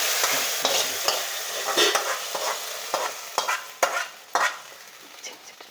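Fried mustard tempering is poured onto a coconut-ground fish curry, making a close sizzle with scattered clinks and stirring scrapes. The hiss fades gradually as the pan settles, and no one speaks.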